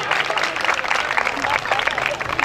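Congregation at a township church program applauding loudly and steadily, a dense wash of clapping with crowd voices mixed in throughout.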